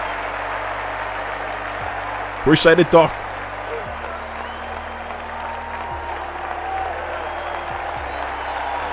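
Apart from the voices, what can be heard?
applause sound effect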